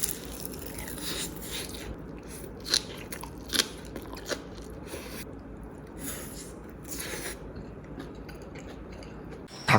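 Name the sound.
eating crunchy fried rice with onion and meat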